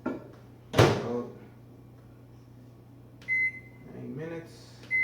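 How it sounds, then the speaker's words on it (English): Microwave oven heating a portion of pre-measured rice: a sharp door thud near the start, a low steady hum throughout, then short electronic beeps from the keypad as it is set running. "I'm going to microwave that right now"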